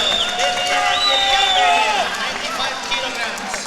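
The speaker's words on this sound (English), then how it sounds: "Standing ovation from the Albanian crowd." Stadium crowd on its feet at a women's 55 kg weightlifting European championship in Albania, a dense, steady roar of cheering and applause with whistles rising above it, loud and sustained throughout, with a commentator talking over it.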